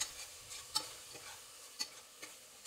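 Veg kuska curry mixture being stirred in a pan, quiet soft scraping with a few sharp utensil clicks against the metal, faint sizzle underneath.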